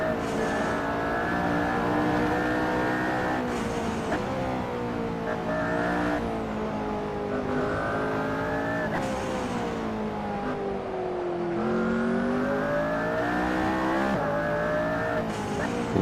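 A car's engine revs steadily through gears during a hot lap on a race track, pitch rising and dropping with each shift, loud and continuous from onboard, with faint tyre noise and no talking.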